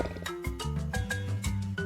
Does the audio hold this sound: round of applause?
no